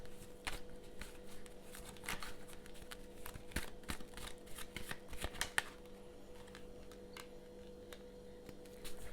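Tarot cards being shuffled by hand: a steady run of soft riffling and papery flicks with sharper snaps here and there, close and fairly quiet, with no talking.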